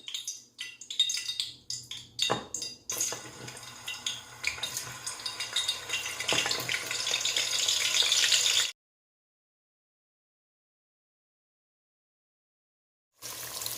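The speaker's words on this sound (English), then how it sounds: "Now the oil is hot, so I will add my salted fish first before I add the onion." Salted fish dropped into hot palm oil in a pot, giving clattering utensil knocks and then a rising, continuous sizzle that cuts off abruptly, followed by silence and a brief return of frying.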